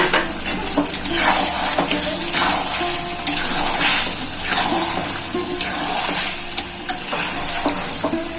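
A little water goes into a pan of chicken curry with cashews, raising a loud, steady sizzle broken by scraping and stirring clinks close by.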